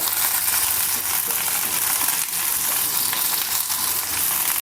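A dense, loud crackling sizzle of dried chillies and curry leaves frying in hot oil, steady for a few seconds before cutting off abruptly.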